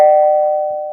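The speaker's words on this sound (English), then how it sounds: "2 doorbells." A single electronic doorbell tone rings out loud and close, holding one steady pitch as it slowly fades over about a second.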